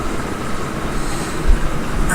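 Trains running in Transport Fever, a steady rolling rumble of railcars with a continuous, even drone throughout and no voices.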